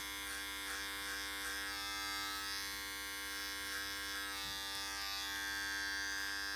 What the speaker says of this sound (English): I'm gonna take the clipper at a 45-degree angle and just get it off the ears